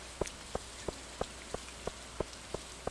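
Rain in Stardew Valley, heard as a soft wash with regular, evenly spaced droplet taps, faint and alone.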